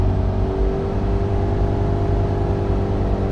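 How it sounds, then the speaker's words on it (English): A VW Caddy van's 2.0 TDI common-rail diesel revving on a dyno, producing a loud, steady, close engine drone with a whirring hum that holds at a constant pitch for a few seconds, with no voices. "I'm going to increase the speed a bit, rev through to 45 mile an hour now."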